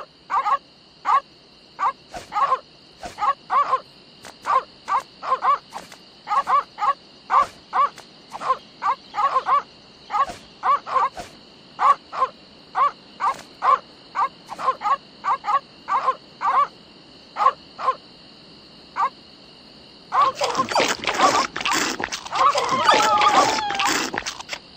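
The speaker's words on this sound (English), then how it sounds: "These dogs are not dead. They are only sleeping." In Secret of Monkey Island, sleeping dogs make a repeated, rhythmic series of short whimpering, snoring-like yelps over a steady high tone, and a burst of denser noise follows at the end.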